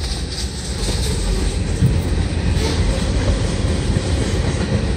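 A train rolls past on the track at a station holdout on track two, a loud continuous rumble of wheels and cars close by with faint rail clatter and no talk.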